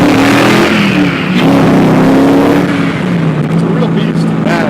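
A Factory Five GTM with an LS7 V8 engine roars close and loud, its revs climbing and falling in a deep, steady drone, with people talking over the engine.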